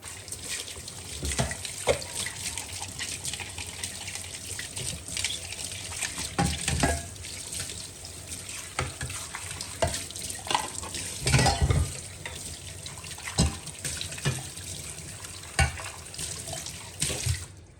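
Mixer grinder jars being washed one after another under a running kitchen tap, with steady splashing water and occasional clinks and knocks of the jars against the sink, fairly close throughout.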